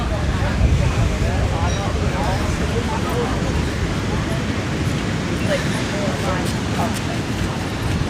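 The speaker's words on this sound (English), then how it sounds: "The waves are definitely getting bigger the further I go along" Ocean waves breaking along a busy beach in Tenerife, with surfers out, make a steady, loud wash of surf that rolls on continuously without pause.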